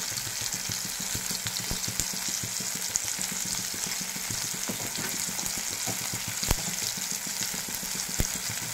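Potatoes and eggplant sauté with chili, turmeric and cumin powder in a pan, giving a steady, quiet sizzle with faint stirring clicks and occasional sharp pops, no voice over it.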